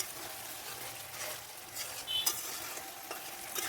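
Pabda fish curry with green chilies and coriander leaves sizzles gently in a pan as it heats, a soft steady crackle with occasional small pops.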